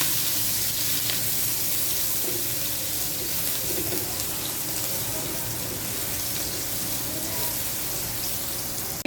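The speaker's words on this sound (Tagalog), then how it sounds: "Igisa na tayo, lalagyan na natin yung ating garlic." Garlic sautés in a pan for pork liempo humba with tofu, giving a steady, even sizzle that continues throughout, with faint cooing birds in the background.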